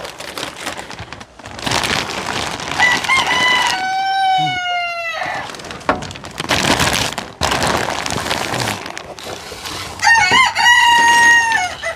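Silkie chickens at a flooded coop during a winter storm cluck and crow repeatedly, with rain falling steadily in the background.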